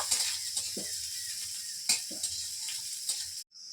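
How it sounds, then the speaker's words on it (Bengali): Onions fry in a wok under a steady hiss and sizzle, with a few clanks and scrapes from stirring before the sound briefly cuts out near the end. "পেঁয়াজগুলো একটু লাল লাল করে ভেজে নেব।"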